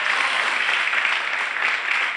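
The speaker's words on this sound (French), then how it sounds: "ça s'applaudit très, très fort," Audience applause at an outdoor summer radio show with live music acts, a dense steady clatter of many clapping hands, loud and close, sustained evenly for the whole stretch with no voices on top.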